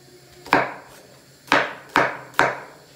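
Onions being chopped coarsely on a wooden board with a knife, four sharp chops spaced unevenly, close and clear with no talk.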